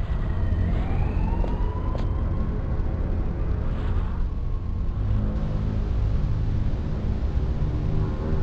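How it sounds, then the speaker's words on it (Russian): In the 1998 video game Nightlong, a fire alarm wails with rising and falling siren-like tones over a dense, rumbling background, continuous and fairly loud throughout, with no talking. "Опять эта проклятая тревога."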